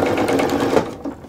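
Sewing machine stitching the lining seam of a drawstring tote backpack, a steady close whir of rapid needle strokes that stops just before the end.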